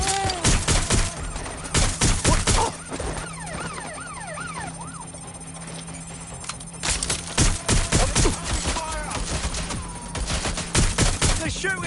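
Bursts of rapid gunfire crackle loudly in clusters, with a wailing siren rising and falling between volleys and voices shouting underneath.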